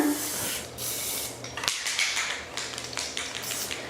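A spray paint can hisses in a broad, steady burst while blending on a painting, with a short break and then further spraying at close range.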